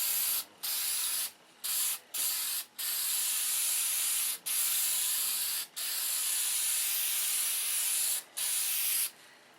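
Spray can of primer hissing onto a model airplane in a steady, close, loud series of bursts, each a second or more long with brief gaps between them, no talk.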